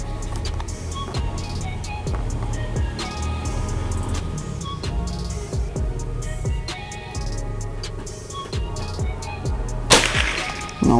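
A Predator Tactical PCP air rifle, Gen 5, fires one sharp, crisp crack near the end, standing out over a steady hum and scattered small clicks.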